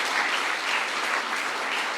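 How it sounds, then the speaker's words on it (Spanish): A church congregation claps steadily for two seconds, a dense, even patter of many hands filling the room at moderate loudness with no voices over it. "Denle un aplauso al Señor"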